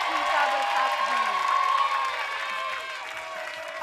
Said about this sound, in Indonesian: kasih tepuk tangan dong buat pemain-pemain